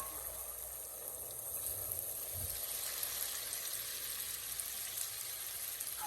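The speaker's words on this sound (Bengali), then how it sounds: "এখন আমি চিকেনগুলি দিয়ে দিচ্ছি।" Chicken neck and feet pieces sizzle and fry in hot oil in a pan, a soft, steady crackling hiss heard alone and fairly faint.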